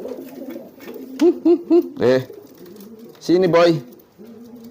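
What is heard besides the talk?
pigeon cooing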